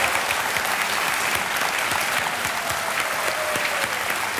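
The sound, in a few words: studio audience applause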